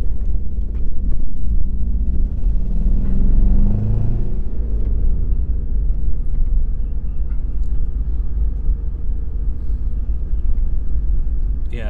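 A 2004 Ford Focus ZX3 engine runs rough at idle, a loud, steady low rumble with an uneven, lumpy throb throughout and no speech.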